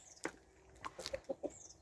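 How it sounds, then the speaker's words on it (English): Soft, close clucks from chickens come in a few scattered bursts, faint and brief, with quiet background rustling. "first things first, as usual, sort the chickens out."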